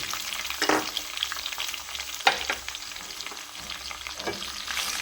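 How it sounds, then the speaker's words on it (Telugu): Sliced onions frying in oil with seasoning for a pumpkin pulusu, a steady close sizzle broken by a few sharper stirring scrapes, with no talking. "ఇవి కాస్త దోరగా వేగనివ్వాలి"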